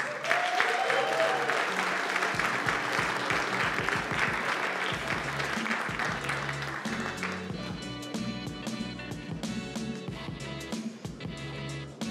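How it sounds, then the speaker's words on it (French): An audience applauds the Cégep Limoilou team at a student science competition, a sustained round of many clapping hands that stays loud before thinning toward the end. "On applaudit les représentants du Cégep de Limoilou."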